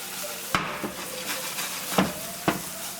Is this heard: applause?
no